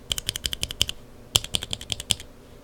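Mechanical keyboard with Kailh Burgundy switch stems being typed on, two quick bursts of sharp, even keystrokes with a flat, clacky tone, close and loud with a short pause between runs.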